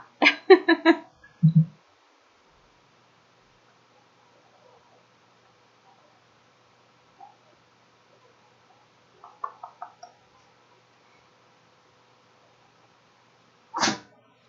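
A short, sharp sneeze bursts out near the start, followed by long quiet stretches with a few faint rustles and clicks.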